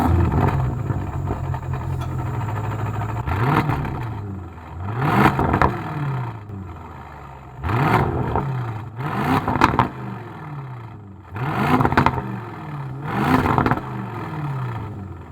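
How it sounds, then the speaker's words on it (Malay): Aston Martin DBX exhaust accelerating hard in repeated bursts, each pull rising in pitch through the gears with clattery revving, loud and close, with no talk over it. "bunyi exhaust ni."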